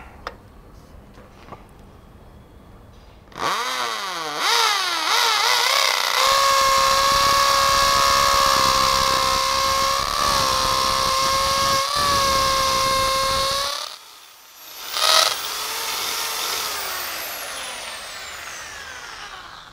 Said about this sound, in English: So we put this in the hammer mode.